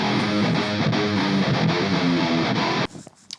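Chunky, heavily distorted stereo metalcore electric guitars chug in a dense, loud, continuous riff, then cut off abruptly near the end, leaving faint residual noise.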